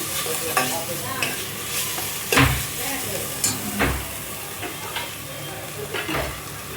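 Ginger garlic paste and turmeric hit a hot oiled pan while cooking a Sunday non-veg dish. A continuous close sizzle runs under repeated spatula scrapes and knocks on the pan, with a few louder clatters and no clear talking.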